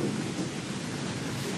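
Heavy rain pours steadily with a deep thunder rumble underneath, a loud, constant, dense wash of noise lasting the whole moment with no voices.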